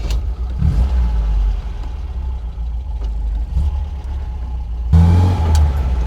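An MGB GT classic sports car engine drones loudly from inside the car, its pitch rising and falling as it revs through gear changes with a deep rumble.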